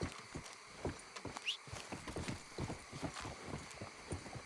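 Horse hooves clip-clop in an irregular trotting rhythm in Red Dead Redemption 2, fairly faint, with a brief whinny-like squeal partway through.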